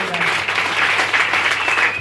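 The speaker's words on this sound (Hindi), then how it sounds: "रमेश जी, ताली बजाना भैया के लिए।" Seminar audience applauding a newcomer, dense, steady clapping filling the room throughout, with a voice over it.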